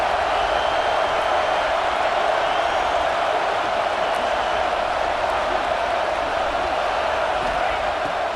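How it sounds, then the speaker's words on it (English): Steady, dense stadium crowd roar at a college football game in EA Sports College Football 26, the home crowd at Saban Field swelling on third down, a continuous wash of noise with no clear breaks. "The Tide crowd rolling noise down onto Saban Field on third down."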